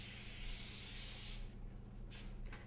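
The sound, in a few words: spraying cooking oil onto a plastic storage bag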